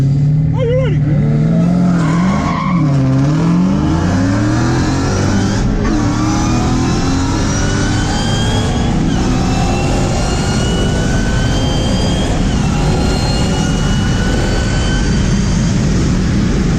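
A Jeep Trackhawk races a McLaren 570 at high speed, a loud sustained engine roar with rising and falling revs early on, then a steady high-pitched whine as the cars run flat out, with wind and road noise throughout.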